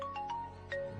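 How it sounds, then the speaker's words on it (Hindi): A phone ringtone plays steadily for a second as a melody of clear, short tones, moderately loud and alone with no talk over it. "फोन बार बार बज रहा है, बात कर लीजिए।"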